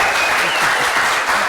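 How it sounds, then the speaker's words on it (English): Loud, dense audience applause at an AWS user group talk, a continuous wash of many hands clapping close by with no gaps. "the roof's gonna come off this place with applause"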